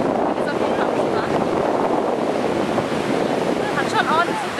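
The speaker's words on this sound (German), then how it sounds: "Hat schon ordentliche Wellen" Ocean surf at Canggu beach in Bali, a dense, steady wash of breaking waves mixed with wind noise, loud and continuous, with faint voices in the background.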